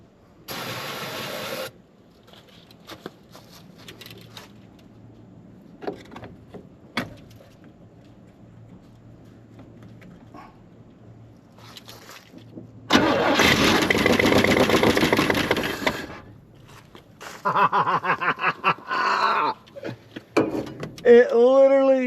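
A 1969 Jeep Wagoneer engine, sitting unrun for 40 years, cranks and fires loudly around midway, roaring briefly before settling, with scattered clicks and knocks before it and people talking afterward.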